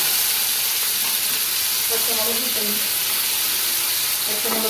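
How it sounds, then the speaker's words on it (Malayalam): Shallots and green chilies sautéing in oil for a Kerala Palakkad-style chili tamarind dish, a loud constant hissing sizzle with faint stirring sounds beneath. "ചെറിയ ഉള്ളി നല്ലപോലെ വഴറ്റണം"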